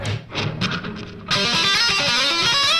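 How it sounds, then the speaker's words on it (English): The same diminished guitar run played fast: a few picked notes lead into a dense, rapid flurry of distorted electric guitar notes, loud and continuous. "Here's that run sped up."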